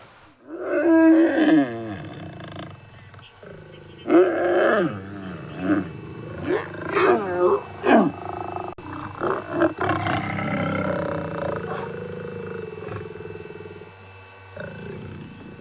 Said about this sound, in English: That is by far the longest lion copulation I've ever seen.